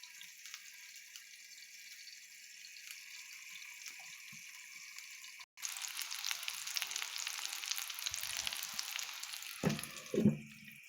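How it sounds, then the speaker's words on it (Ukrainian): Cutlets frying in a covered pan, a soft steady hiss that grows louder and fuller halfway through, with a few clinks near the end. "Перевернувши котлетки на другу сторону, накриваємо кришкою і смажимо далі"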